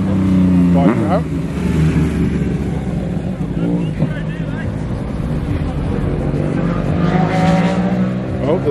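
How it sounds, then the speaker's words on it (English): A BMW M140i rolls in at a car meet in a retail car park, its engine and exhaust a steady drone near the microphone throughout, with crowd chatter and other car noise around it. "M140i rolling in."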